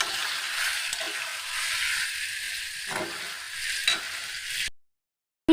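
Chicken pieces for Bengali-style chicken kosha sizzle and fry steadily in a pan while being stirred with salt. The dense hiss continues for several seconds, then cuts off abruptly, followed by a single sharp clink.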